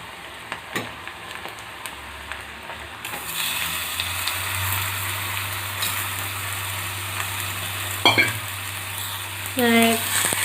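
Washed chicken pieces hit a hot pan for Chettinad-style gravy, bringing a sudden rise into a steady, close frying sizzle, with a few utensil clinks and scrapes along the way and no talk.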